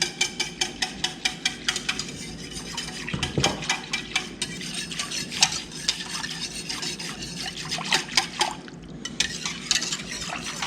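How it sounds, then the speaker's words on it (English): A whisk beats cream into a yogurt base in a bowl, making a fast, regular series of wet clicks and taps against the sides, steady and close, with a brief heavier scrape partway through. "I'm just gonna take this and scrape it into there. And whisk it in."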